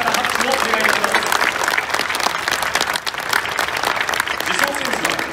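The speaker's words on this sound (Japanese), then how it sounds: "各賞受賞の選手たちに今一度盛大な温かな拍手をお願いいたします" A large crowd applauds continuously at the 2021 All-Star Game awards ceremony, dense clapping filling the whole stretch at a steady, enthusiastic level.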